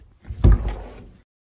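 A storage drawer slides open from under the oversized lounge sofa in a 2005 Fleetwood Revolution motorhome. It makes one short, close scraping rumble that lasts under a second, then stops.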